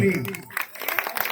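Audience applause for a children's programme, a burst of clapping rising after a voice fades at the start, continuing steadily with scattered sharper claps.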